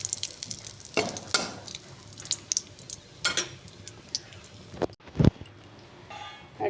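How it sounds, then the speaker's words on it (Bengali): Whole spices, two bay leaves, a cardamom pod and a little cinnamon, sizzle in hot oil left from frying paneer, a low crackle with intermittent stirring scrapes and a clatter of a utensil against the pan. "2টো তেজপাতা আর একটা এলাচ আর একটু দারচিনি, এটা ফোড়ন দিলাম।"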